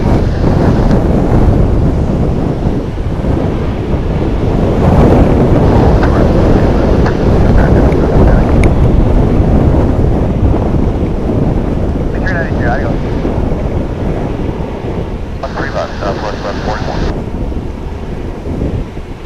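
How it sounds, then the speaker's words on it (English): An American Airlines A319 jet taking off at Dallas/Fort Worth airport makes a loud, continuous, wind-buffeted engine roar that stays powerful across nearly twenty seconds. "Jetting off to Chicago now is this A319, American Flight 2221."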